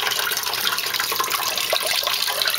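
Water pouring down one side of a SantaMonica 25 algae scrubber, a steady, close, broadband splashing rush with no pauses.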